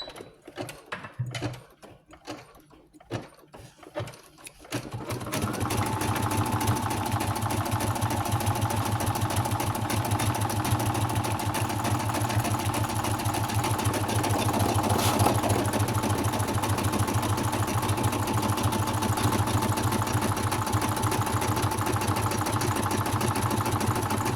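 Embroidery sewing machine stitching a design on fabric with three layers of backing, a rapid steady mechanical whir that starts after a few seconds of quiet scattered clicks and then runs continuously and fairly loud.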